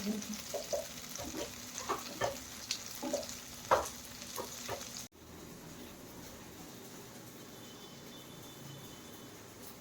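Food crackles and sizzles in a pan with stirring clicks for about five seconds, then the sound drops to a quiet, steady hiss.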